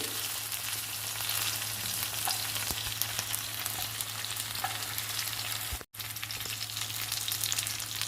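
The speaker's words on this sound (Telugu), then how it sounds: "ఒక్కొక్క వంకాయని తిప్పుకుంటూ ఫ్రై చేసుకోవాలి" Brinjals frying in oil in a pan, each one turned in turn, with a steady, even sizzle that runs continuously, broken only by one very short gap.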